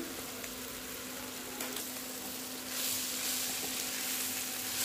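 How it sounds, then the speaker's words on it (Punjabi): Washed poha dropped into a pan of hot spices, a steady soft sizzle and hiss with occasional stirring scrapes, fairly quiet and continuous throughout. "ਹੁਣ ਆਪਾਂ ਇਹਦੇ ਵਿੱਚ ਇਹ ਪੋਹਾ ਪਾ ਦਾਂਗੇ ਜਿਹੜਾ ਆਪਾਂ ਧੋ ਕੇ ਰੱਖਿਆ ਹੋਇਆ ਸੀ।"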